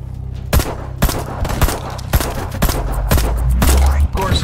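Pistol fire in the video game Black Skylands: a string of sharp, evenly spaced shots, about eight or nine, cracking loud and close at a steady pace over low game background sound.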